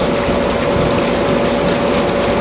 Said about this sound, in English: having the waterfall and the sounds, even in the evening time